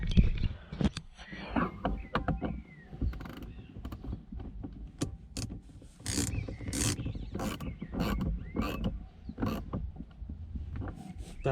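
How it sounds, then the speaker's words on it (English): A 10mm wrench snugs up the battery bolt on a Volvo, giving soft close ratcheting clicks, metallic taps and rubbing scrapes in an irregular sequence. "Then you have to use a 10mm. I'm just going to snug it up."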